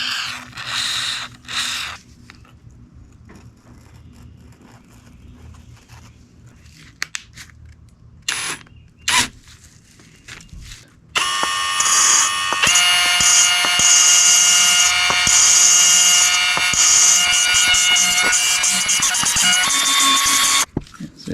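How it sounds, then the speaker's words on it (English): Engine valves being lapped on a Honda ATV left to rot outside for years, a steady dense rasping grind with sharp tonal squeals running continuously through the second half after brief scattered taps and rustles. "let's go ahead and lap these valves in"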